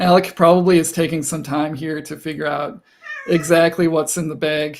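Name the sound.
cat meowing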